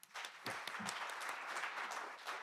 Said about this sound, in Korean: 두 분에게 다시 한번 박수 부탁드립니다